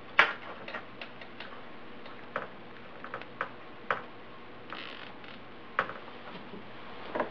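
Zip ties ratcheting tight to fix a keychain camera to the landing gear of a 450 Sport model, a string of faint, crisp clicks and ticks spaced irregularly, close and quiet against a soft background.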